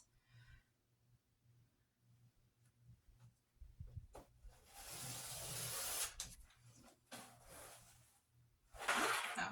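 A rotary cutter slices fat quarter fabric into 2.5-inch strips, quiet handling rustles giving way to a longer rasping cut in the middle and another brief cut at the end, close and soft.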